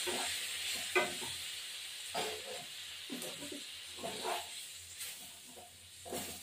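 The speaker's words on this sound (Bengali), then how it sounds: "এবার একটু নাড়াচাড়া দেবো।" A spoon stirs small fish curry seasoned with salt and turmeric in a pan, making soft, repeated scraping strokes at a regular pace over a quiet, low background sizzle.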